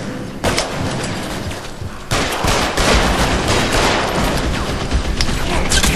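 Gunfire in the 1940s Los Angeles detective video game L.A. Noire: close, loud bursts of rapid shots crackling almost continuously over a few seconds, with no voices.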